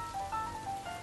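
Steady rain patters across a surface in a dense, even hiss, with faint higher tones drifting above the wash of falling drops.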